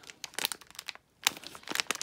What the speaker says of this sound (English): which beartito will you unwrap?